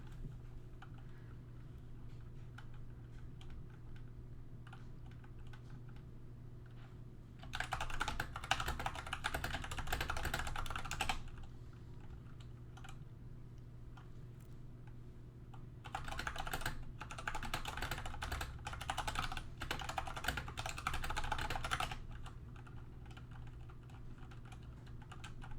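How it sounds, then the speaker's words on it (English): Computer keyboard typing in two bursts, fast and clattery, over a steady low hum from the machine, with quieter stretches between the bursts. "I like typing out my thoughts more"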